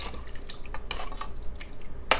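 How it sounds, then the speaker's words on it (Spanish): A spoon stirs collagen soup with spoonfuls of sofrito in a pot, giving a few light, scattered clinks and scrapes against the metal at close range, with no talking. "lo voy meneando"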